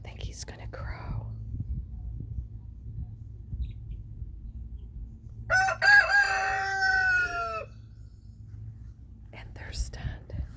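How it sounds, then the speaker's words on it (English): Rooster in a backyard flock crows once, a loud drawn-out call lasting about two seconds mid-clip, with soft whispering and low background noise before and after. "I think he's gonna crow."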